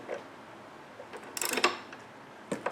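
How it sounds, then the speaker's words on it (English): A wrench cracks loose a front control arm bolt on an Audi B8 (2009-2016), giving a few close metallic clicks and a brief grinding burst of turning metal with quieter pauses between, no talk. "I have a wrench on this side because there's not enough room to put a ratchet. And try to crack this one loose as well."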